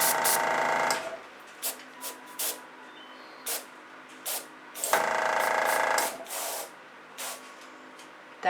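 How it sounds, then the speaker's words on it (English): An airbrush sputters on for the first time during acrylic fluid painting, giving bursts of close hissing and puffing, two longer blasts separated by short spurts and pauses. "I wonder if my airbrush will turn on"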